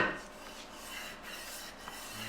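Steady rasping scrape of self-sticking sandpaper on a 3/4 inch steel sanding block rubbed back and forth over a broad axe, close up and fairly quiet, with a rhythmic whooshing stroke pattern.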